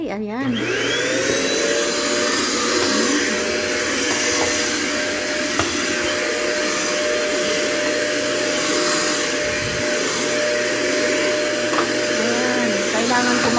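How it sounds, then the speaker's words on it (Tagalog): A household vacuum cleaner runs steadily and loudly throughout, used to clean up cat hair at home, with someone talking over the continuous motor drone. "kailangan ko mag-vacuum araw-araw kasi yung amin, mayroon kami mga pusa"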